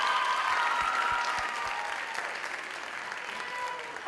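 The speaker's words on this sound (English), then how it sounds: "Give them another round of applause." Applause from the audience at a high school talent show finals, a dense sustained clapping that stays steady, then slowly thins toward the end.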